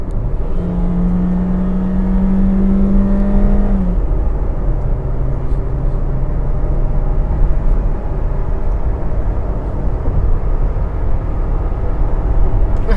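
A 2016 Suzuki Ertiga seven-seater accelerating from 80 to 120 km/h in normal mode, its engine tone rising steadily then shifting after a few seconds into a continuous road and wind roar heard from inside the cabin.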